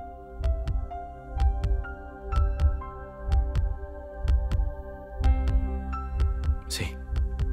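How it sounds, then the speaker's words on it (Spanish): A heartbeat sound effect in a dramatic telenovela scene: steady, deep thumps about every half second, close and prominent, with sustained music tones layered over them. "Son mis latidos."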